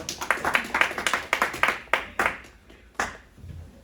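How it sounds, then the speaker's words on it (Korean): A short burst of clapping from a small group at a church youth worship service. It is brisk at first, then thins to a few scattered claps. "박수해 주세요"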